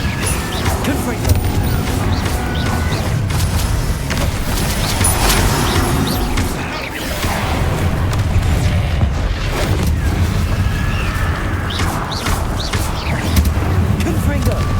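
In Hogwarts Legacy, Confringo spell blasts and combat booms roll through a dense, loud battle soundscape. Several rumbling impacts are spread across the stretch, and a few shouted voices come through.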